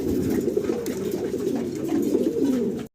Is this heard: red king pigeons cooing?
yes